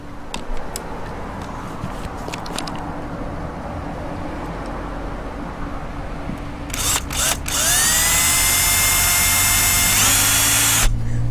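A small drill bit bores a pilot hole near a black tank vent on an RV, the power drill whining steadily at close range after some handling clicks and scrapes, with a few sharp knocks toward the end.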